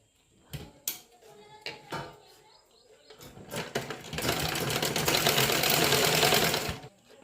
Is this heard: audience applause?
no